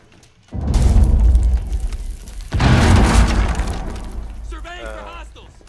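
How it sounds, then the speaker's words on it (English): Two heavy booming explosions in the video game Rainbow Six Siege, a couple of seconds apart, loud and close, each rumbling off into a lingering roar, followed by a short burst of chatter. "What was that explosion?"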